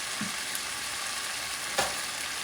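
Tomatoes and eggs sizzle softly in a hot pan as they are stir-fried, a steady hiss broken by a couple of faint spatula taps.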